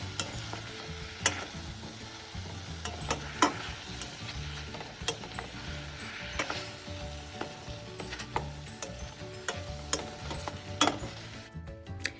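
Strawberry topping for oatmeal waffles cooking down in a pan toward a jam-like thickness, giving a soft steady bubbling sizzle with repeated light utensil taps and stirs, close and quiet, without voices.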